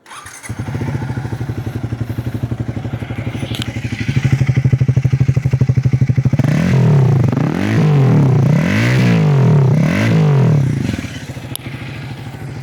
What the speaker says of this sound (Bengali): পিসি নিচে নেমে এসছে, আমার বাইকের আওয়াজ শুনবে।